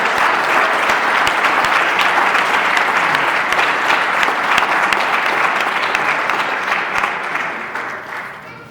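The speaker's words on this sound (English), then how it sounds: "let us give one more great round of applause to Sharon," Sustained applause from an audience honoring award recipients at a women's celebration event, loud and steady, gradually fading toward the end.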